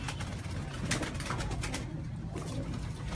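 Teddy pigeons cooing on a rooftop, soft murmuring coos under steady outdoor noise, fairly faint and continuous.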